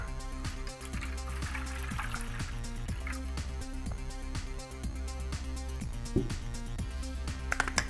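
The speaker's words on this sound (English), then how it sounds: "Next, you add 2 cups of water into your bowl" Two cups of water are poured into a bowl for a homemade bubble solution, making a steady, soft splashing trickle that runs continuously at close range with a few small splashes near the end.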